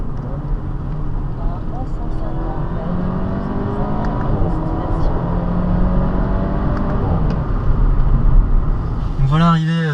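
An Audi A4 quattro family sedan's engine pulls hard under acceleration, its rising harmonic tones sweeping upward and growing louder inside the cabin over a steady road rumble, with a short voice burst at the end.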